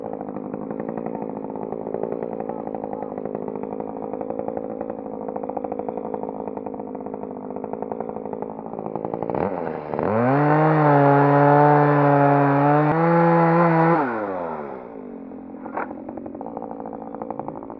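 A RYOBI ES 3035 chainsaw felling a standing tree runs steadily near the microphone, then revs hard for several seconds as it bites through the trunk before dropping back to a lower drone.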